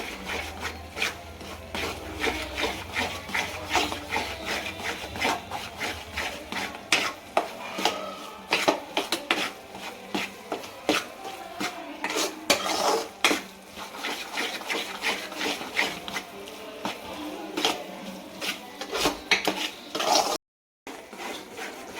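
Flour roasting in ghee in a pan is stirred steadily for a long stretch, a repeated close scraping and rubbing of the spoon against the pan with no talk.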